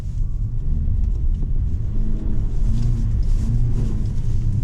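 A Toyota Prius AWD accelerates hard and drifts with traction and stability control off, its steady low engine and road rumble holding loud and continuous throughout, with no talking.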